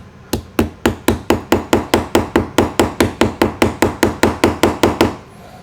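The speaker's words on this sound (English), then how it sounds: "Use a hammer." Steady, rhythmic hammer taps on a Kawasaki Mule 610 carburetor part, about four per second, sharp and close, continuing for several seconds before stopping.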